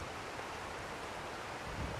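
Hurricane wind roars over an outdoor camera in a steady, broad, fairly faint rush of buffeting noise, with no voices.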